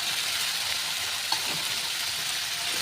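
Potato pieces, drained well of water, fry in hot oil in a pan with a continuous close sizzle, and a single soft clink of stirring comes partway through.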